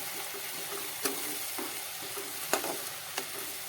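Drumstick leaves and flowers cooking into a Gujarati shaak sizzle gently in a pan while a spoon stirs them, with three distinct scraping knocks against the pan over a steady frying hiss and no speech.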